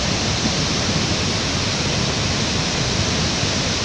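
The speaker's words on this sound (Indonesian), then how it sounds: "Jadi itu sangat deras sekali aliran airnya." Floodwater rushes down roughly four metres from a bridge in a steady, loud, broadband roar that never lets up, with no voices over it.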